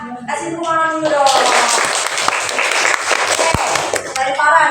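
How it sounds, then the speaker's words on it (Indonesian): A classroom of students claps for a classmate, a dense burst of hand claps lasting about three seconds, with a teacher's voice just before and after. "Kasih tepuk tangan dulu dong."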